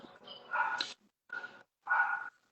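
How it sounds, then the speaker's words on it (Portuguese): A pack of neighbours' dogs barks in three separate bursts, the first longer and mixed with yips, then two shorter barks after brief pauses, moderately loud and with no talking over them. "Estão escutando a cachorrada latina aí?"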